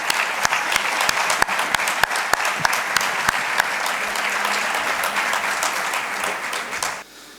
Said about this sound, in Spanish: Demos un fuerte aplauso a nuestro amigo Rafael González Millán.